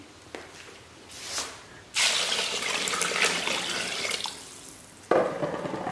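Water pours and splashes into a container as olive-curing brine is replaced with fresh water, a steady gushing fill in two long bursts separated by a brief pause, close and fairly loud, with no talking.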